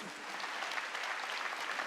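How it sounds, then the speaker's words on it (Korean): A church congregation claps together during a worship service, a fairly faint, continuous patter of many hands that lasts the whole moment, with no voices heard. "아랭걸 미드에는 박수치며 하나님께 영광을."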